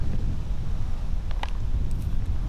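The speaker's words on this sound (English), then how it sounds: "It is windy up here." Steady wind blowing across a hilltop disc golf course, a constant low rumbling roar of wind buffeting the microphone throughout, with a faint brief click partway through.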